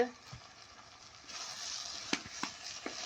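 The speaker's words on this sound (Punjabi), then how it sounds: "ਧਨੀਆ ਨੂੰ ਚੰਗੀ ਤਰ੍ਹਾਂ ਮਿਕਸ" Cabbage and peas sabzi with chopped coriander is stirred in a hot pan, a soft continuous sizzle broken by a few light scraping strokes of the spoon, close and fairly quiet.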